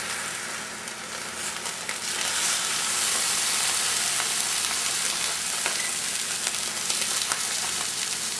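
Duck pieces fry in hot oil in a skillet on high heat turned down slightly, giving a steady, close, dense sizzle and crackle with no talk.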